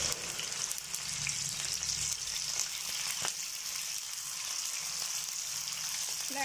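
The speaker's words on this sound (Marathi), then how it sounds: "जेवढे तेलात मावतील तेवढे फ्राय करत राहायचे." Potato pieces deep-fry in rice bran oil, giving a steady, close sizzle with a few small pops and clinks of stirring. No one speaks over it.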